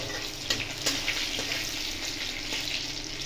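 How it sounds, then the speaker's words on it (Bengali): Cumin and chopped garlic frying in hot oil, a steady close sizzle with a few sharp stirring or tapping clicks near the start and a faint watery hiss throughout, no voices. "জিরে আর রসুনটা একটু ভালো করে ভাজা হয়ে যাওয়ার মধ্যে 2-3 সেকেন্ড আমি এরকম মেরে নেবো"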